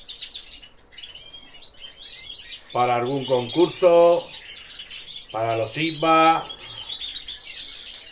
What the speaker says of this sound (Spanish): ya estamos preparando los pajaritos